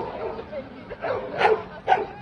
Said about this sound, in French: Ici on a la chienne de Elena, je crois que c'est Chucky.